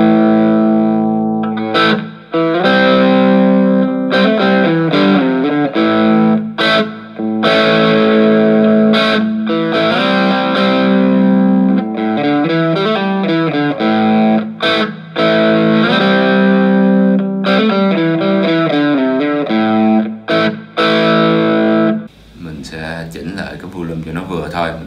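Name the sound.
electric guitar distortion through Cort CM15R/CM30R amplifier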